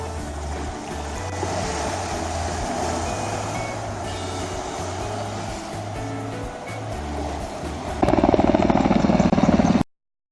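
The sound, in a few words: helicopter flying over beach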